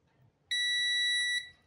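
An analog multimeter set to its continuity range gives a single steady electronic beep lasting about a second, clear and close against a quiet background.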